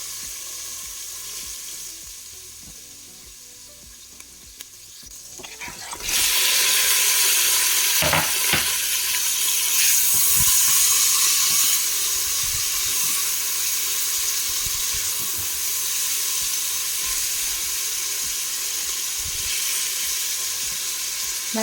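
Meat drops onto browning onions in a Cookeo multicooker, and after a quiet opening a loud, steady sizzle starts up with bursts of hissing and a few scraping stirs, continuing close and unbroken with no voices.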